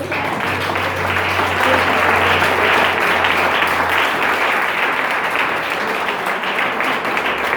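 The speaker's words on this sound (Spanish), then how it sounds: "Dale un aplauso a Jesús." A church congregation applauds during a Spanish-language service, broad steady clapping sustained for several seconds at full volume with a low hum beneath.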